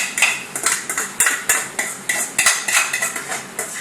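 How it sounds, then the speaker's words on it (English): Akee is tossed into a metal frying pan, giving a rapid series of sharp clanks and scrapes from utensils against the pan in a fast, uneven rhythm, loud and close. "we bring it back to the frying pan and we just toss it over into the frying pan like that"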